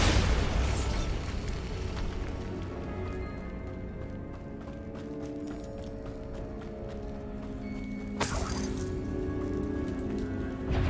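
A Bombarda spell explosion in the video game Hogwarts Legacy: a loud blast at the start, followed by a crackling, rain-like rumble and debris, then a second burst near the end, with no speech.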